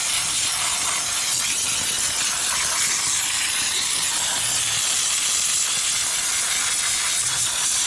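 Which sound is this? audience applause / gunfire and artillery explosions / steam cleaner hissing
steam cleaner hissing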